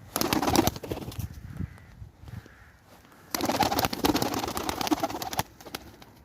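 A pigeon that cannot get airborne and keeps tumbling gives close, moderately loud coos, with two bursts of fluttering activity separated by a quieter stretch.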